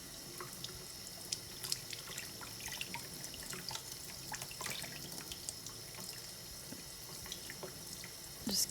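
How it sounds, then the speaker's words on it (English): Cold tap water runs steadily over dyed wooden beads in a sink, a soft continuous splashing with scattered drips and small clinks, fairly quiet throughout. "just keep running the water over them till it's super clear"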